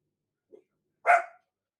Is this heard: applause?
no